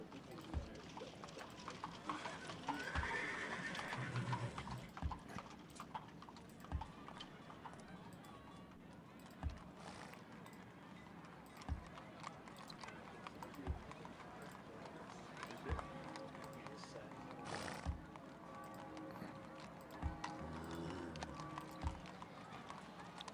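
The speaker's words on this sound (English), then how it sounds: "you can hear the background noises of horses clopping around and stuff like that" Rhythmic hoof clip-clops of horses in the video game Civilization IV repeat throughout amid a busy ambient bed, with occasional horse movement sounds and some faint voices in the mix.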